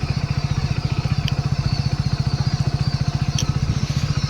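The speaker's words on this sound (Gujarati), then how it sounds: "આપણું બાઇક વગર રેસ હાલે ચાલી જાય છે જોઈ શકો છો" A motorcycle engine runs steadily at low speed while the bike rolls along, its rapid even putter close and loud, with no talk over it.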